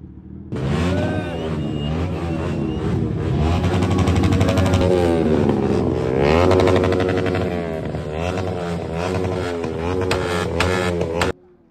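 A group of motorcycles idles and revs together at close range, engines droning with rising and falling throttle blips, loud and continuous with no talk.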